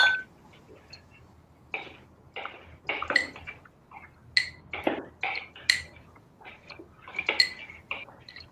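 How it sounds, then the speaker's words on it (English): A metal bar spoon stirs a cocktail with granulated sugar in a glass, producing a series of bright clinks and taps in an irregular rhythm, close and fairly clear against a quiet background. "I like to stir a little bit with the bar spoon"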